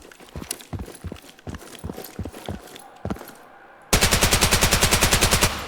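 DMR rifle fired in Incursion Red River: a run of spaced single shots, then a rapid, loud burst of evenly paced rounds, close and dominant, with no voices.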